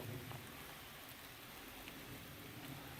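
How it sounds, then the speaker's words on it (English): Steady rain falls at an outdoor deer camp, a soft even hiss of drops on surfaces that holds constant throughout with no voices. "now all of a sudden it's dark and raining"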